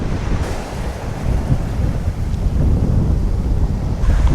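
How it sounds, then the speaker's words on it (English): Strong wind roaring across the microphone with the crash and wash of surf beneath on the beach at Ventimiglia, Italy, loud and continuous, no one speaking. "In fact, it's a lot windy down here."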